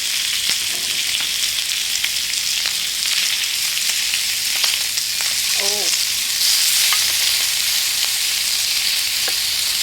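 Pork frying on a grill pan with a steady, close hiss and sizzle and occasional small pops and clinks, no talk.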